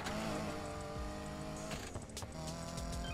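A car engine roars continuously while driving in Need for Speed Payback, the revving pitch wavering up and down, with a few sharp transient thumps and swishes mixed in over a dense game soundscape.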